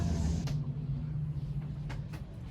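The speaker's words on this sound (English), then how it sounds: "This is wind gusts." Hurricane Elsa's wind roars steadily with a deep rumble around a sailboat, broken by a few sharper gusts rushing through.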